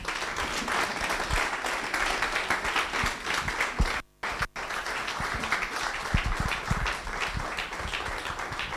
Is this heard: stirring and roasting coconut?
no